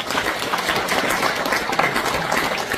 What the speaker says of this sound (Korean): 박수를 한번 안 해주시고.